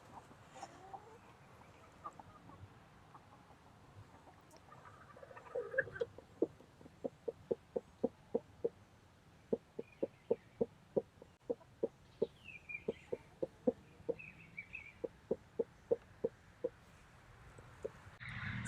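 A broody hen clucks in a nest box in a steady, rapid series of low, soft pulses, nearby and alone, with a few short pauses between bursts.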